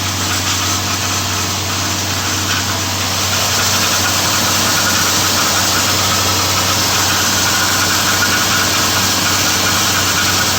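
A freshly rebuilt Nissan VK45DE 4.5-liter V8 engine idles loudly and steadily up close on its first start, a constant low rumble with slight vibration and no voices over it.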